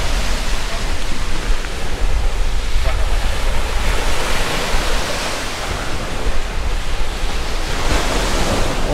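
Ocean waves washing onto a beach at a seaside resort, a continuous loud roar of surf with wind noise across the microphone.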